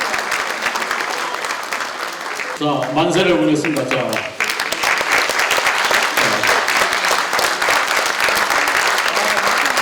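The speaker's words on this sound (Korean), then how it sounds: "큰 박수를 부탁드립니다" Loud, sustained applause from an audience at a party central committee meeting, briefly interrupted by someone speaking over it before the clapping surges back and continues.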